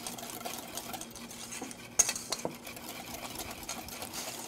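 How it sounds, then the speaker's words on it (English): Whisk beating quickly in a bowl in a home-style kitchen, a steady soft scraping and clinking rhythm that runs throughout at low level, with one sharper knock near the middle. "We're gonna whisk away."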